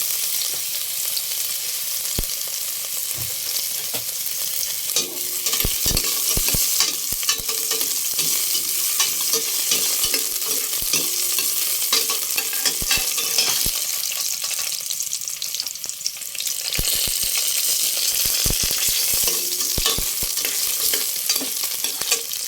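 Ginger fries in hot oil for chicken tinola, giving a continuous sizzle with frequent sharp clicks and scrapes of a utensil stirring against the pan.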